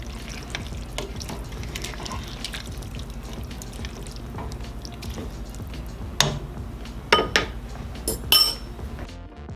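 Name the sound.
dishing up sweet potato chili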